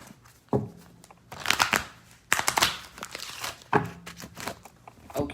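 Tarot cards being shuffled by hand at a table, giving bursts of papery riffling and soft slaps in three or four separate rounds, close and fairly quiet, with no talking.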